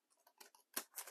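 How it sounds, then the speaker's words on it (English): Scissors cutting folded junk mail paper, a few quiet crisp snips spaced unevenly, close and alone. "Cut on one side of that fold and then cut on the other side of that fold."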